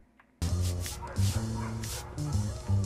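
Dog barks and yips from the Family Guy video game come in several close, loud bursts over steady game background sound, with a brief whimpering quality between them.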